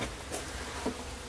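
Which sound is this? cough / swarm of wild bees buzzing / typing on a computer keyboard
swarm of wild bees buzzing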